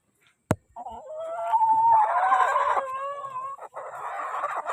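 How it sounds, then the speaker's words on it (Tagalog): A sharp click, then a rooster crows loudly up close, followed by a steady mix of clucking chickens with no talking. "Iba yung tunog ng talaot nila."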